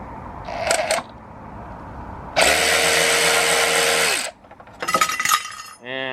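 A power tool, likely an impact wrench, removes bolts from the front end of a Honda Super Cub C125 motorcycle: one loud, steady whirring burst of about two seconds, framed by metallic clinks and handling noises.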